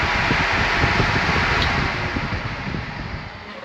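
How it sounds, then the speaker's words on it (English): An overhead fan runs inside a 2024 Polaris RZR XP side-by-side, giving a steady, loud broadband whoosh with a low rumble underneath that eases slightly toward the end, with no voices. "for really slow crawling, we got the overhead fan"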